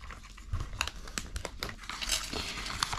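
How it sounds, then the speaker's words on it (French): Paper folded into a jewelry box is creased by hand, giving close crinkling and crackling with sharp irregular snaps throughout, no talking. "Donc je marque les plis"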